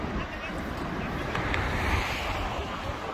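Two rivers rushing together at a confluence on the Char Dham road near Devprayag, a loud, continuous broadband roar of flowing water with wind buffeting the microphone, no speech heard.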